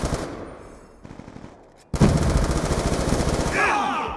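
Rapid automatic gunfire in the multiplayer shooter Black Ops 2 on the Slums map, a quieter burst giving way after a brief gap to a loud, close, sustained stream of rattling shots.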